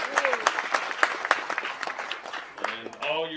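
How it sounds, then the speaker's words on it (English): Crowd applause with scattered clapping, moderately loud, tapering off as a voice begins speaking at the end. "So please give us a round of applause."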